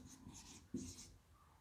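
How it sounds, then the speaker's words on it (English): Pen or marker writing a maths formula on a board or paper during a class lesson: a soft scratchy stroke sound, faint and brief, with one slightly firmer tap partway through and no talking. "let me just write it down"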